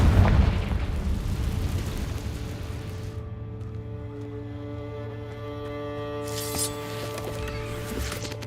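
A Confringo fire spell detonates in Hogwarts Legacy on PC with a loud, close boom, then settles into a low rumbling tail under a sustained game music drone.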